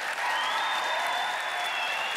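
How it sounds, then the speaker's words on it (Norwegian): Applause from an audience, a dense burst of clapping lasting a couple of seconds, with a faint crowd murmur. "Gi en stor applaus til Kjetil, mine damer og herrer!"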